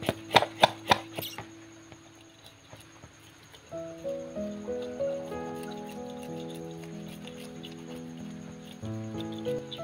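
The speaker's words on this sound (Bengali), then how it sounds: "তারপরে চলে আসলাম মাছটা কাটতে।" A knife cuts fish on a board with a quick run of sharp, close chops at the start. Then the chopping gives way to sustained tonal sounds that ring on to the end.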